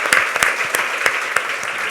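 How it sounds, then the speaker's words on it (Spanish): Audience clapping at a book presentation, a dense burst of hand claps with sharp individual claps standing out, steady through the short stretch with no talking. "Un aplauso, hombre."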